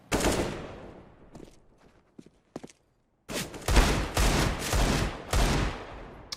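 Rapid gunfire bursts from Counter-Strike on the Dust 2 map, with a loud opening volley, scattered single shots and a quiet gap, then dense sustained firing, close and without talk.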